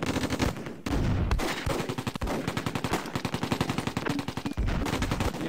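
Gunfire and mortars from the Close Combat video game, played in the German campaign. Rapid machine-gun bursts rattle in a steady rhythm with heavier booming blasts mixed in. It is loud and continuous, with no voice over it.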